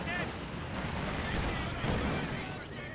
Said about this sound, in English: Over here we do have the Volkswagens firing away, MG34 hitting the conscripts.